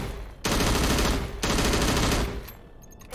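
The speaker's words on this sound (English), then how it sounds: "Try shooting at the target on your left." Automatic gunfire rings out in the video game Anime War: Modern Campaign as a target is shot at. Two long, dense bursts of rapid shots are separated by a brief pause, loud and close, with no voices.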